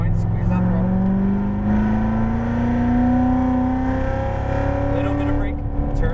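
Chevrolet Corvette Z06 Stingray accelerating out of a corner on track as the throttle is squeezed, a loud sustained engine tone rising steadily in pitch, with a voice talking over it.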